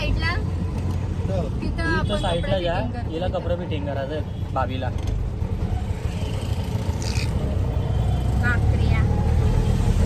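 Steady engine drone of an auto rickshaw while riding along, loud and continuous beneath close conversation and street noise, with people talking throughout.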